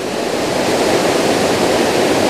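Rushing water of Eas Fors waterfall, a loud, dense, steady roar of falling water with no break and no voices, heard up close.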